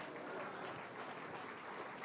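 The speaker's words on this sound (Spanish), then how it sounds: "Dele ese aplauso fuerte al Señor" A church congregation applauds loudly during a sermon, making a dense, continuous clapping that fills the room for about two seconds.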